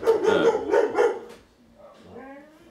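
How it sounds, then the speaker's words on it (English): A dog barks several times in quick succession close by, then gives a softer whining yip. "Shut up, dog!"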